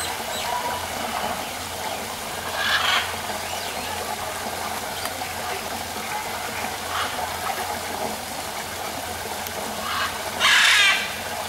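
Parrots call on hotel grounds in Pattaya, Thailand: a few harsh, squawking cries at spaced intervals, fairly distant, over a steady outdoor background hiss with no talking.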